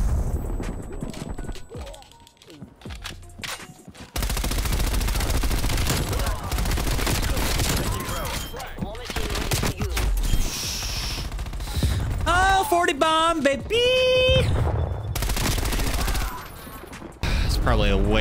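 Gunfire in Call of Duty: Black Ops Cold War comes in loud, dense bursts and volleys, broken by brief quieter gaps, with game effects and occasional talk mixed in.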